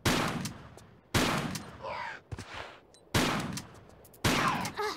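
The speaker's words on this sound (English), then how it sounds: "That's 4 shots to kill a harpy with a shotgun." Four loud shotgun blasts in a Tomb Raider custom level, fired about a second apart to bring down a harpy, each a sharp bang with a short decay and brief creature and game noises between shots.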